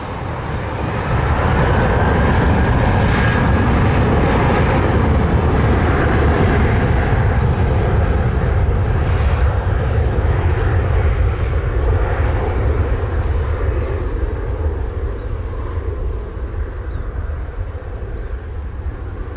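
A Spirit airliner taking off from runway 07 at Montego Bay, Jamaica, with a loud sustained engine roar building and holding steady, then slowly easing as the plane climbs away.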